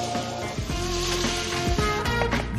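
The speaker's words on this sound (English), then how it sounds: "she sears the beef" Beef searing in a hot pan, a steady broadband sizzle running throughout over low kitchen clatter and tonal background music.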